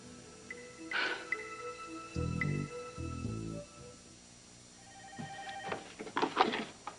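A telephone rings in short bursts, bright and electronic, in an office or hospital setting. The rings come twice with pauses between them, set against faint background sounds, with no talking.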